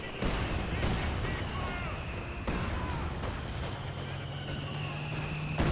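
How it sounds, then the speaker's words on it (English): An AVRE fires in a Company of Heroes 2 battle amid dense game noise, with heavy booms and gunfire thudding repeatedly over a constant roar of combat while a caster talks throughout. "AVRE firing"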